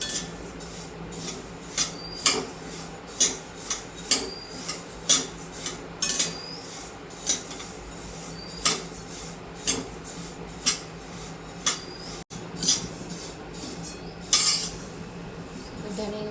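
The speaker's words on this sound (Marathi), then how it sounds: "मसाले सारखे हलवत बसायचे, जेणेकरून ते थोडे पण जळायला नको, अगदी नॉर्मल भाजले गेले पाहिजे" Whole spices, coriander seeds among them, dry-roasting in a pan while a utensil stirs them, producing repeated scraping clinks in a steady rhythm with faint crackling between strokes; no talking.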